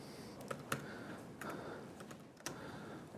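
Someone typing a query on a computer keyboard, a few quiet, irregular key clicks and taps spaced apart, close but soft, with no speech.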